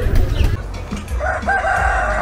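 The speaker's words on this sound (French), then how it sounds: "Ah, les ventes de volailles qu'on voyait plus du tout chez nous. Ah, génial. Ils sont beaux les coqs." Roosters crowing at a poultry sale in an outdoor market in Chiapas, Mexico: a loud, close crow rising out of steady clucking and market bustle, with further crowing carrying on behind.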